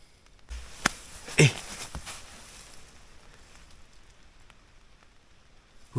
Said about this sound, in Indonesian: Hujan beneran dong.